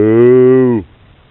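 A single deep cow moo, loud and close, holding steady for under a second before cutting off into quiet.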